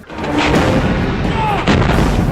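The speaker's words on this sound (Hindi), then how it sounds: "हिंदुस्तानी जवानों ने तोपों से गोले दागने शुरू कर दिए थे" Artillery guns firing shells in a news report on the Kargil war: loud, continuous rumbling booms with a dense, noisy roar and a fresh blast near the end, close and heavy.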